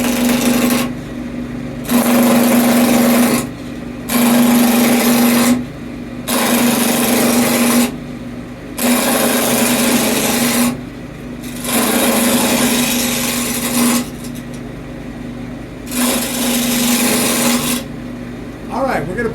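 A chisel shapes a tomahawk handle of spinning wood on a lathe, making a steady loud whirring scrape in repeated passes of about two seconds, each broken by brief pauses.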